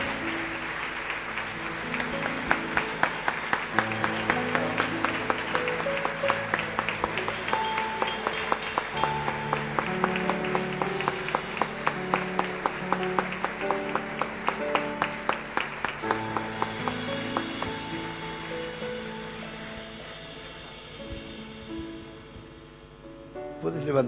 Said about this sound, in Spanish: Así que vamos a aplaudir al Señor por la vida de esta familia hermosa.